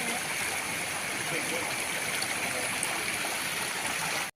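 River water rushing steadily and loudly at close range as it is waded across at night near a village farm hut, a dense, constant flow with no pauses.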